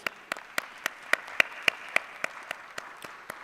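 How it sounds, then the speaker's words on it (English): Applause at a university convocation session: crisp, evenly spaced claps ring out in a steady rhythm, several per second, clear against a quiet hall with no talking. "Big round of applause"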